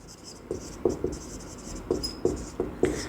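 A marker or chalk writes chemical names on a board in a chemistry lesson, making a series of short scratchy strokes in an uneven rhythm, close and fairly clear, with no talk over them.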